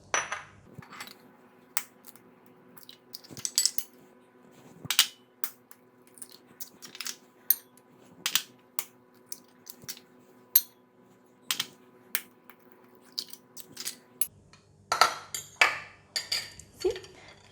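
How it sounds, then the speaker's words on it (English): Eggs cracked one at a time on the rim of a bowl while preparing an omelette, producing a series of sharp, close taps and clicks spread across the clip over a faint steady hum, with a busier stretch of clatter near the end. "I like to crack it one by one on the other bowl first"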